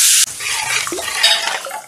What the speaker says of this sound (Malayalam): ഇത് നന്നായിട്ടൊന്ന് ഇളക്കി കൊടുക്കണം